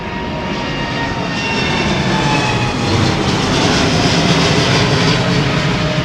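Korean Air Boeing 747-8i departing London Heathrow, a loud, close jet roar that builds and stays dense, its pitch gliding as it passes, with no talk over it.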